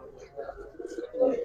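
Giribaz pigeons coo softly nearby, a few low, rolling murmurs that swell toward the end amid quiet surroundings.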